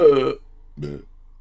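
A burp-like vocal sound from a character in the Dead Space Remake game, in two voiced bursts separated by a short silence. The first is louder and the second weaker.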